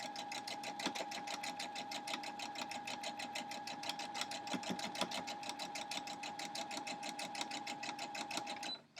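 A sewing machine stitches a quilt block in a steady, rapid mechanical rhythm, running continuously up close with no talking until it stops at the end.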